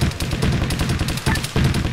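Sustained gunfire in the Arma 3 military shooter, dense overlapping rifle and machine-gun bursts at steady loudness with brief lulls, no talking.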